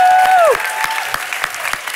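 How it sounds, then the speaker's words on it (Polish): A theatre audience at an improv show breaks into dense, loud applause right after a sustained whistle-like tone ends, the clapping continuing steadily without talk. "Wiktor Walentynowicz, wielkie brawa."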